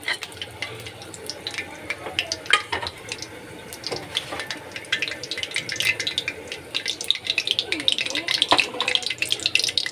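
Close, crackling sizzle of whole garam masala spices frying in a hot pot for pulao, with scattered pops and light stirring scrapes building toward the end.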